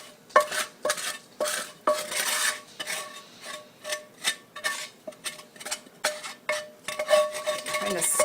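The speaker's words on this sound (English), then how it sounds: "So we stir that in" Spoon stirring fried ground meat into minestrone soup in a crockpot: a steady run of sharp scraping clinks against the pot in irregular bursts, fairly close and alone.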